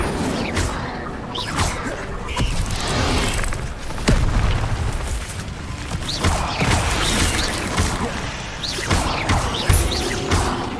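Spellcasting in the video game Hogwarts Legacy, an Incendio fire spell thrown amid combat against monsters, with continuous roaring bursts, booms and crackles layered into dense battle noise throughout.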